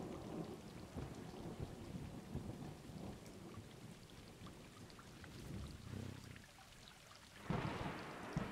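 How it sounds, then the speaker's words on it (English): Steady rainfall in a video game, Stray, with rumbling thunder rolling underneath and a louder crack of thunder near the end, a continuous wash of rain with no talking. "It's raining out."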